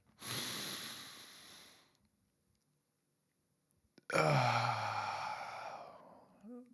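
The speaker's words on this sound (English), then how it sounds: "let's take a deep breath before we start with this lesson" One deep breath taken up close: a long, airy inhale, a pause of near silence, then a longer, heavier exhale that trails off, with no talking.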